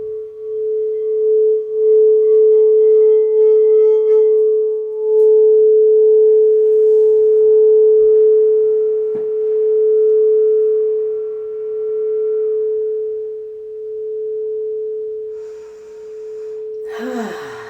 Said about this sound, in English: I'm going to sound the bowl so we can kind of join the space together